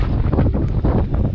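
Strong wind buffets the microphone at a harbour beside a cruise ship in Greece, a loud, steady roaring rumble with gusty surges throughout and no talk.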